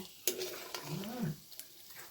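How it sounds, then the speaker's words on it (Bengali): Potato chops fry in hot white oil with a soft, continuous sizzle, broken by a sharp utensil clink near the start and a few lighter knocks; the sound is faint and steady, with no talk. "সাদা তেল গরম করতে দিয়েছি, এখন একে একে চপটা দিয়ে দিচ্ছি।"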